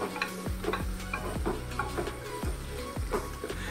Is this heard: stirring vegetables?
yes